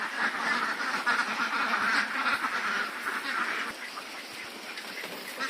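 Farmed ducks quacking in a long pen, a steady chorus of many overlapping quacks at moderate distance, continuous throughout with no talking.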